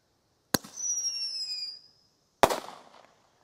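Daytime fireworks: a sharp launch crack followed by a whistling tail of about a second, then a second loud salute bang that decays quickly, heard close and with no talking.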